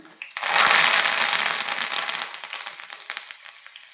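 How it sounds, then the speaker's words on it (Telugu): Garlic and curry leaves hit hot oil in a pan, a burst of loud crackling and sizzling that settles into a steady spitting fry with scattered pops, no talk over it. "కొంచెం వేగిన తర్వాత వెల్లుల్లిపాయలు వెళ్ళిపోయి కదండి కరివేపాకు వేసుకుందాము"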